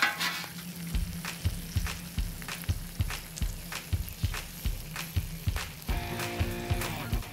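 A Reuben sandwich sizzles steadily on a flat-top griddle, with a constant close frying hiss and crackle broken by repeated scraping and tapping of a spatula, and no voices over it.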